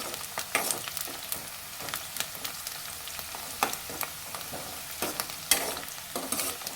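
Onions frying in a pan are stirred with a spoon, making repeated sharp scraping clicks over a continuous low sizzle, close and clear with no talking.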